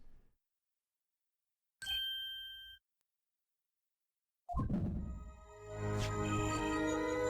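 Apollo's bracelet reacting in Apollo Justice: Ace Attorney, a bright electronic ding chime that rings briefly, then a longer shimmering swell of tones after a short pause, with no voices.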